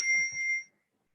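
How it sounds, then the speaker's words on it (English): A small hand bell rings once, bright and clear with a sustained ring that fades out within about a second, close and alone with no talk over it. "So it's just a bell."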